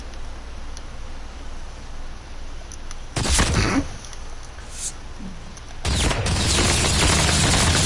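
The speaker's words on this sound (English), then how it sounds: "Hey, who's shooting at my dinosaur?" Gunfire aimed at a dinosaur in the video game Ark, two sudden loud bursts of rapid shots breaking through a quiet hissing background, the second burst running on to the end.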